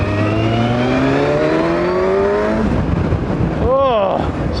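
A 2016 Kawasaki Versys 1000 motorcycle engine climbs quickly in pitch while riding, then drops sharply on a gear change, loud and close over wind rush.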